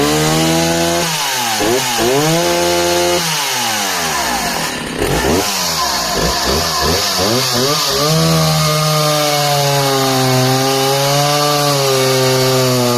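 Husqvarna 262XP or Stihl 045AV chainsaw set to factory RPM, its 25-inch bar cutting through roughly 18-inch wood, engine loud and close with pitch dipping under load and rising again as it bogs and revs through the cut.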